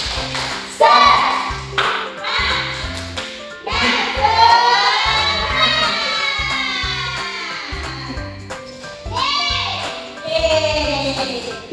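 A classroom group claps out a rhythmic patterned spirit clap in bursts during a maths lesson, with musical tones and chimes ringing over the steady beat.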